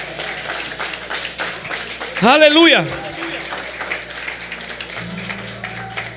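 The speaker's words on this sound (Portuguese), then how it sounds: "Você podia aplaudir a palavra de Deus?" A church congregation applauds during a sermon on family, a broad crackling wash of clapping running throughout, with a loud shout of praise rising briefly above it near the middle.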